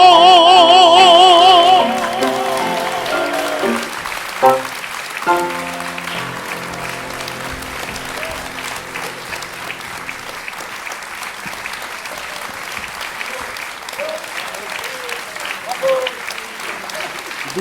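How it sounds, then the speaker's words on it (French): Singing from the Toreador aria of Carmen at a live opera evening fades out, and then an audience breaks into sustained, steady applause while a voice speaks over the clapping. "S'il vous plaît, un grand applaudissement pour la femme orchestre de ce soir."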